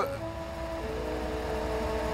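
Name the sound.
mayor's car arriving around the street corner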